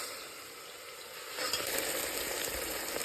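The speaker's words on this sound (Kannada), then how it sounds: "ಈರುಳ್ಳಿ ಫ್ರೈ ಆಗ್ತಾಯಿದೆ" Onions frying in a pan give a steady close hiss that swells louder about halfway through, a continuous crackling sizzle with no voices.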